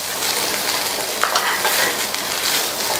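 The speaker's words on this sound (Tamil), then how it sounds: "பீன்ஸ் கேரட்டை சேர்த்துட்டு நல்லா மிக்ஸ் பண்ணி விட்டுருங்க." Beans and carrots frying in a pan while being stirred, a steady loud sizzle with scraping and stirring noises throughout, heard close with no talking.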